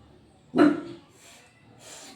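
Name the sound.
dog barking at puppies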